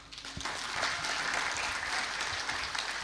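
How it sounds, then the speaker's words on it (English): Audience applause at the close of a university public lecture given by the Ambassador of Ukraine to Indonesia: dense, steady clapping from a crowd that swells within the first second and holds loud and even to the end. "Give applause."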